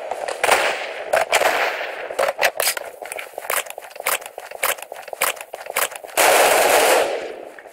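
Rapid bursts of gunfire from a player's ordinary gun in a first-person shooter game, loud and close, with a dense stuttering volley near the end.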